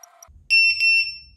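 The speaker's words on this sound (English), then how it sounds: "And as you can hear, now the buzzer has been activated." A VIFLY Beacon drone locator buzzer sounds a loud, shrill, steady electronic beep lasting about half a second, close by, following a brief faint tone, with no talking.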